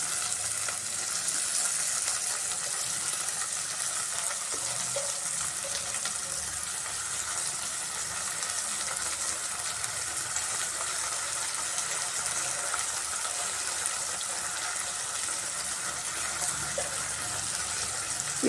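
Washed broken wheat and moong dal fry in a pan with a loud, continuous, even hiss and sizzle that holds steady throughout, with no talking.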